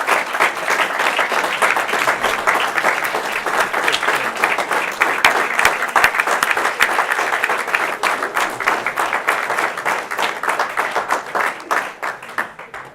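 Sustained audience applause for award honorees at a corporate President's Club presentation, a steady, even roar of many hands clapping that holds for about twelve seconds before easing slightly at the end.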